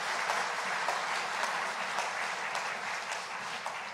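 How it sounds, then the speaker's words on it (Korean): A church congregation applauds at an elder ordination service, a continuous full-room clapping that stays fairly steady and slowly eases toward the end, with no voices over it. "우리 박수 한번 해주실까요?"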